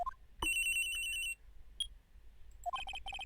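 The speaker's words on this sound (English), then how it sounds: "I received a call on my cell phone." A cell phone rings in the video game Phoenix Wright Trilogy, with a sustained electronic tone followed by rapid repeating beeps.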